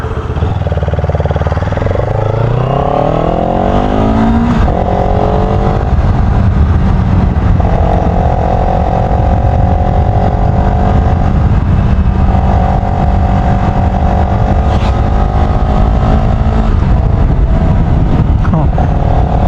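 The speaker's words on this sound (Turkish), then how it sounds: "Biraz ısınsın motor da öyle çıkarız." Yamaha MT-09 three-cylinder motorcycle engine idling as it warms up, a steady close rumble with rising harmonics early on and a continuous even drone throughout, no talk over it.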